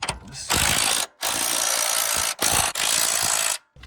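A ratchet wrench tightens a car's sway bar link and ball joint in loud, close bursts of rapid clicking, separated by brief pauses, with no talk.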